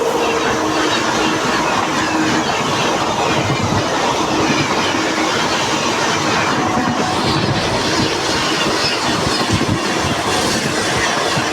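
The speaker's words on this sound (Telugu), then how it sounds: "సో ట్రైన్ అయితే ప్లాట్ఫామ్ నెంబర్ 3 మీదకి అయితే తీసుకెళ్తున్నారు." Passenger train, the Circar Express from Kakinada Town to Chengalpattu, running onto platform 3 of a station on the Bhimavaram main line: loud continuous rumble with clickety-clack wheels on rails and faint squeal, heard from aboard.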